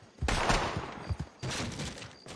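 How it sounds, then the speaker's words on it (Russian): Gunfire from a shooting range in Red Dead Redemption 2 cracks in two dense bursts of rapid shots, heard at moderate distance with game ambience between them. "кто-то стреляет"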